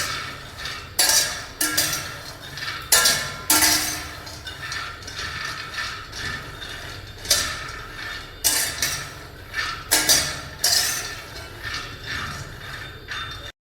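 Peanuts are dry-roasted over a low flame and stirred in a pan, giving repeated scraping, rattling bursts of nuts against metal at an irregular rhythm, close and fairly loud with quieter stretches between strokes.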